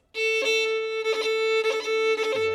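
A fiddle plays a steady drone-like note broken by quick, bright ornamental flicks, four short bursts, loud and close, imitating a bagpipe in a Scottish-style ornament.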